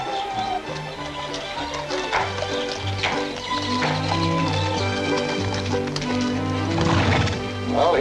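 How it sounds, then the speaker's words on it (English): A horse whinnies and clip-clops close by while music plays underneath, with a brief voice near the start. "Well, here's your horse, sir. A spirited beast and all ready to go."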